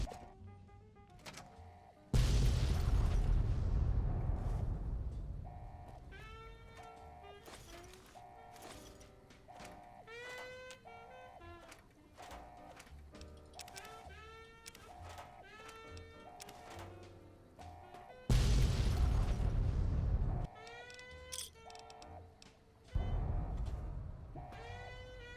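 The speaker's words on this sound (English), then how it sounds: "The explosions are a little obnoxious." Loud, booming bursts of explosions in Fallout: New Vegas with broadband rumble, two big blasts separated by busy electronic effects and tonal chirps.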